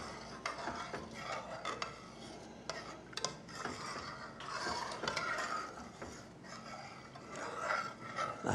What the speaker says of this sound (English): Got to stir this to make it go just right